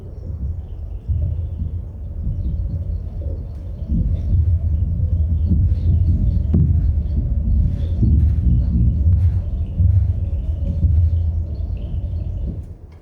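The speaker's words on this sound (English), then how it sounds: "put a underwater mic to the glacier, and that sounds like this" Underwater microphone held against a glacier, picking up a continuous deep rumbling wash with scattered faint crackles and pops above it, steady and fairly loud throughout with no voices.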